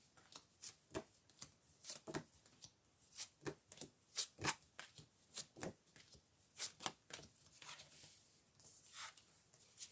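Tarot cards being drawn and shuffled during a reading on betrayal, giving a string of sharp papery flicks and slaps at an irregular pace, close and fairly quiet, with no talking.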